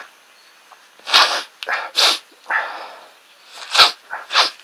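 Several sharp, breathy bursts like sneezes or snorts come one after another with short gaps, fairly close and loud, and no talking.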